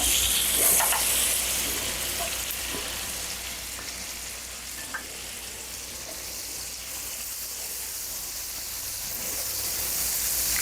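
Onion frying in plenty of butter with a little oil on a flat tawa, a loud, constant crackling sizzle with occasional small clicks from stirring, heard up close.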